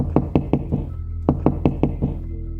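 Someone bangs on a door at night in two loud, close bursts: four firm raps, a short pause, then five more at the same quick, even pace.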